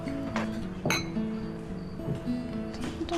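Glasses clink together in a toast: one bright, ringing clink near the middle, with fainter clinks around it, over a low steady background hum.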